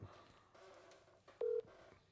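A telephone keypad sounds a short, steady dialing tone to place a call during a livestream, faint and brief in a quiet room.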